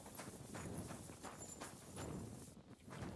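Hooves of a horse walk at a steady, even pace over ground in the medieval game Kingdom Come Deliverance II, a continuous close clopping rhythm with no voices over it.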